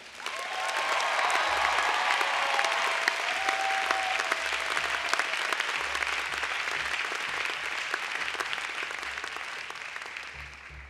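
Audience applause welcoming the 2015 student commencement speaker, a dense steady clapping that holds loud and even for about eleven seconds before thinning slightly at the end, with no talk over it.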